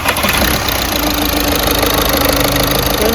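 Diesel engine of a Volkswagen Polo, just fitted with a new injector, idling steadily up close with a continuous even chatter and light knock throughout, no one speaking.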